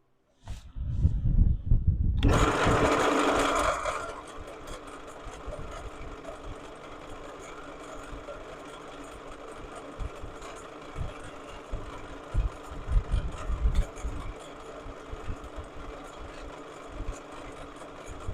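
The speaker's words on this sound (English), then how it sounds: "I'm going to chamfer an edge here." A wood lathe spins as a tool chamfers the edge of a turned piece, a hard broadband scrape at first settling into a steady whirring hum with scattered light tool contacts.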